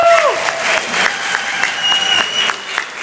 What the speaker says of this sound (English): Please, a round of applause for the team.